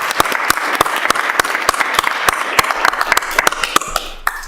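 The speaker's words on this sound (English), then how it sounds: "Let's give him a round of applause." Audience applause fills a city council meeting, a steady crowd of hands clapping with sharp individual claps standing out, fairly close and continuous for several seconds.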